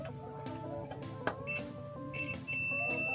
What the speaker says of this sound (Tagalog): Ayun, nag-buzzer siya guys.